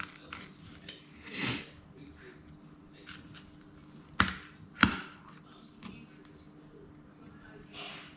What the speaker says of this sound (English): So just cut through the middle of the cartilage. Cut down into sections.